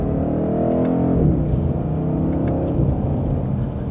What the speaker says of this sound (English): Definitely has a good sound from that V8.